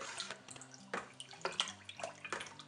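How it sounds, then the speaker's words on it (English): Elderberry wine must being stirred after yeast is added, a wet swishing and sloshing of liquid with splashy surges at a steady stirring rhythm, close by with no talk. "I'm just going to give it a good stir in."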